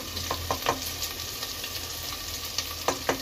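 Spices frying in hot oil with garlic, a continuous close sizzle broken by a few brief clinks and stirring scrapes, with no voices.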